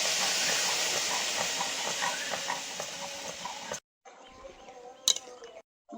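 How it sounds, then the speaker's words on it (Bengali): Egg curry gravy with new potatoes bubbling in a pot, a loud steady hissing boil up close that drops out abruptly, followed by quieter bubbling and a brief clatter. "ঝোলটা ফুটে উঠেছে"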